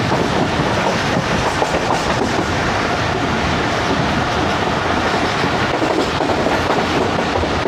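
The 14DN Awam Express runs on rails through the Potohar region, a loud continuous rumble of wheels and carriages close by with no voices.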